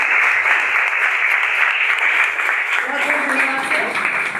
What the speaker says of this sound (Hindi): जोरदार तालियों से आप इनका स्वागत करिए